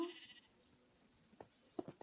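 A sheep in a video game bleats a few short, faint calls near the end, after a quiet stretch with no talking.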